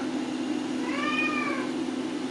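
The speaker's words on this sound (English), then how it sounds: "Cat's driving me nuts." A pet cat lets out a single drawn-out meow, begging for its supper in a home workshop, heard clearly over a steady background hum with no talking.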